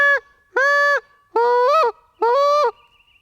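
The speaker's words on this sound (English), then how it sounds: "Back pressure the call." Short reed goose call blown with back pressure from cupped hands, giving four loud honks in a steady rhythm, each with a clear break or flip in pitch, close up and with no other sound.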